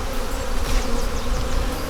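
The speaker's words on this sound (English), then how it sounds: "Shake the bees on the roof in." Bees swarm and buzz densely during a transfer from a five-frame nuc into a full-size beehive, a loud, continuous close hum with no pauses.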